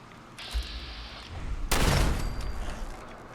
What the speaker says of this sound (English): Alright, gunfire.